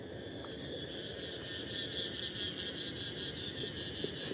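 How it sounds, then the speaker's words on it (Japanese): Cicadas sing at the Khao Matsee viewpoint in Chumphon, Thailand, a steady high pulsing drone with regular rhythmic beats that fills the whole clip, moderately loud over a quiet outdoor background. "セミ鳴いてますよ。"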